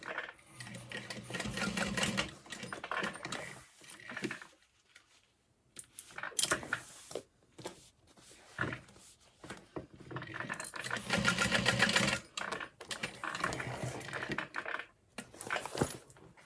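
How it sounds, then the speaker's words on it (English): A sewing machine bastes fabric and foam bag pieces in place with close, rapid mechanical stitching in several bursts separated by short pauses, with no voices. "And then we're going to baste them in place so they don't shift on us."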